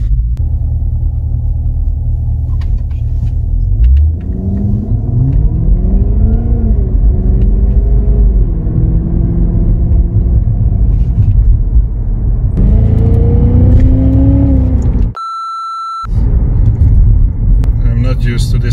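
A powerful car with a 240 km/h top speed rumbles and revs as it accelerates while driving, engine pitch rising in repeated sweeps under someone talking, with a brief steady electronic tone near the end.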